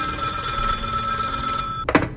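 A telephone rings in the indie horror video game Ignited Entry, a steady electronic ringing tone over a low hum, cut off near the end by a short sharp click or thump.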